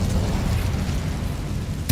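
The Incendio fire spell is cast in Hogwarts Legacy, a short, loud, booming whoosh of flame with a deep, sustained rumble and a sharp burst at the end.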